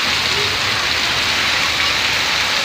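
Heavy rain pours down in strong, gusting wind, a dense and steady roar of falling water that fills the whole stretch without a break.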